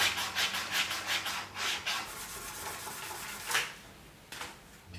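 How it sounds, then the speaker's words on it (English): Hand tools rasp and rub against the bamboo blowing edge of a shakuhachi, a steady series of short scraping strokes in a quick rhythm, close and fairly soft, with no voices. "I've customized my own tools to help me shape the various areas of the blowing edge."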